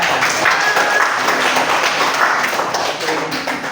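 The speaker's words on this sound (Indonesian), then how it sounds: "Mari kita beri tepuk tangan untuk mereka semuanya." A classroom of students clapping for group representatives after their presentations, steady mid-level applause with faint voices underneath.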